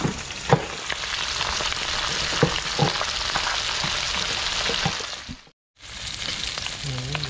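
Ginger and onion sizzle and fry steadily in a hot pan, a dense crackling hiss with occasional stirring clacks, cutting out briefly near the end before the frying resumes.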